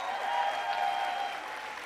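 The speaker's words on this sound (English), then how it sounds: "give them a round of applause" Audience at a Shaklee keynote event applauding, a steady wash of clapping from a large crowd that eases slightly toward the end, with a faint tonal hum underneath.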